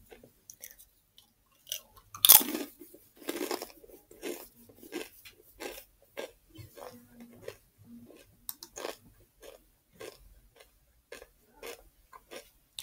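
Crunchy Doritos chips eaten close to the mic, a rhythmic series of sharp crunching bites and chews spread over several seconds, with one louder crackle near the start.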